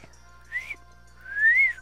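A person whistles a few short rising and falling notes close to the microphone. A quiet pause comes between two phrases and the second note is longer, with faint background hum.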